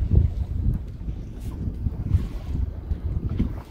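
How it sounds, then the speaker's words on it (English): Steady wind roars and buffets across the microphone aboard a sailboat, a loud, continuous low rumble with gusty swells and faint water wash beneath, no talking. "Wind's pretty good."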